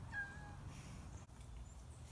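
A single short, fairly quiet cat meow at the start, followed by soft room noise.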